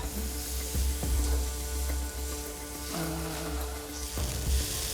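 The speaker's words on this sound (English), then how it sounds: "Tepid frying pan, that's good, Bryn, isn't it?" Food fries in a tepid frying pan alongside chips, a soft steady sizzle and hiss with occasional scrapes and clinks of utensils, fairly close.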